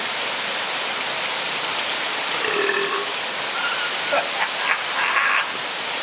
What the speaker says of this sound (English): It is pouring rain, lightning, thundering.